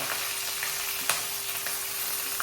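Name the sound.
ginger, chili, garlic and onion frying in oil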